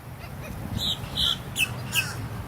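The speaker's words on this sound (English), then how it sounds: "Oh, the baby seagulls." Young seagulls squawking while being fed corn outdoors, with four short, fairly loud squawks spaced about half a second apart over steady low background rumble.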